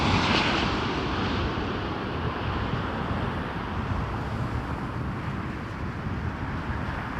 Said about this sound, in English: Beautiful Dreamliner landing